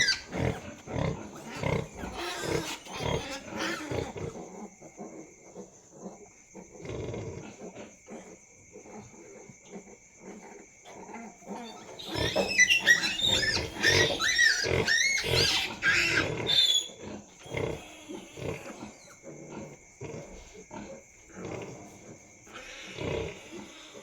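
Shrill squeals from a sow's piglets rise in a dense burst midway, over ongoing grunting and rustling animal noise and a steady high electrical whine.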